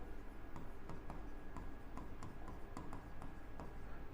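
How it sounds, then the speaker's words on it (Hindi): Hand writing on a board during a number-system lecture, a steady series of short taps and scratchy strokes close by, with no talking. "ये पॉइंटर्स यहां पे लिखते जा रहा हूं मैं"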